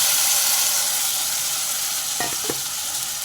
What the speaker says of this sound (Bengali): সর্ষের তেলটা মোটামুটি গরম হয়ে গেছে এরপরে দিয়ে দেবো মেখে রাখা মশলা